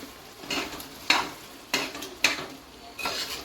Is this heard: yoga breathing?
no